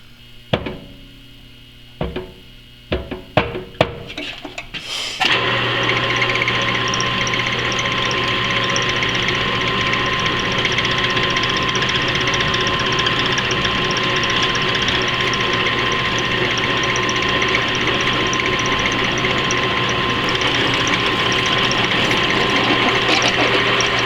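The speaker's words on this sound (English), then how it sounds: "drill a 1/2 inch hole clear through this thing" A few sharp knocks and clicks, then a drill motor starts and runs in a loud, steady whine without a break while drilling a half-inch hole through metal.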